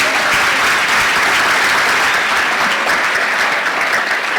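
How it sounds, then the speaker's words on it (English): An audience at a community event on human trafficking gives loud, sustained applause, a dense wash of steady clapping from many people that holds evenly throughout with no voices over it. "Let's give them a applause."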